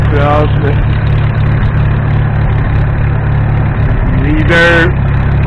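A 1953 McCormick Super W-6 tractor engine runs close by at a loud, steady idle with a deep, constant low drone, just after a hard start, while someone talks over it.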